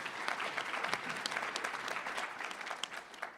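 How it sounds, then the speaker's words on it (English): A conference audience at a closing keynote claps for students in a steady, dense round of applause, fairly distant and uniform, with no talking over it. "I want to have one round of applause for all the students for their effort"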